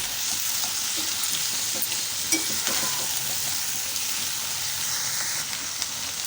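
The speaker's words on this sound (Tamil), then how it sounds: "கருவேப்பிலை கட் பண்ணி வச்ச கோவக்காய் சேர்த்துடலாம் தாளிச்சதோட ஒரு தடவை கலந்து விட்டுப்போம்" Chopped ivy gourd and curry leaves stirred into a hot tempering in a pan, giving a steady, close sizzle and frying hiss with occasional soft scrapes of the spoon, no voices.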